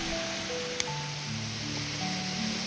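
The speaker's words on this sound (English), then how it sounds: "there is something comforting in the sound of the waterfall, as if nature itself were encouraging me to keep going" Waterfall at a secret forest spot, a steady soft rushing wash of water continuing throughout, fairly faint, with a light tonal music bed layered over it.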